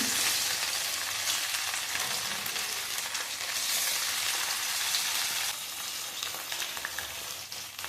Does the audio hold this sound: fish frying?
yes